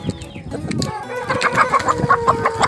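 Roosters cluck repeatedly and fairly close by while being fed a mash of corn, beetroot, carrot, banana, sweet potato and egg. The clucks come in a busy, uneven run with several birds overlapping, and no one talks.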